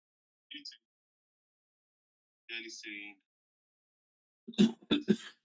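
Three short bursts of coughing in an otherwise silent room, the last a harsher cluster of several quick coughs.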